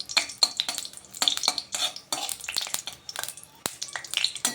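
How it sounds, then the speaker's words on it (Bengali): Dry red chillies crackle and sizzle in hot oil while a spatula clatters and scrapes against the pan in uneven bursts. "আমি শুকনো লঙ্কাটা খুব সুন্দর করে ভেজে নেব"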